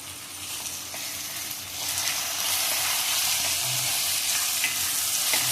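Asafoetida dropped into hot oil while cooking a bitter field bean (kadve vaal) dish, giving a steady, crackling sizzle that swells a little partway through and holds loud and close, with no voices.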